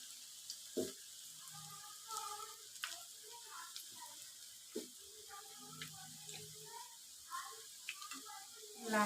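Puffed rice pakoras deep frying in oil until reddish-brown, a quiet steady sizzle beneath a voice speaking throughout, with occasional soft knocks of a utensil.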